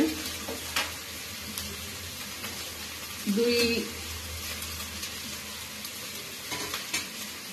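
Ginger and garlic fry in a pan with spices, giving a soft steady sizzle near the microphone, broken by a brief louder stir or scrape partway through.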